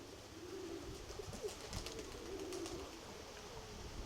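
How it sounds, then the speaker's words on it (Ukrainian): Soft, low pigeon cooing, a few gentle burbling calls heard faintly over steady background noise. "Пишний у мене є голубок такий"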